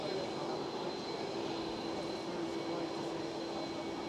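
An airliner hums steadily and faintly at a distance at an airport, a low continuous engine drone with no talk.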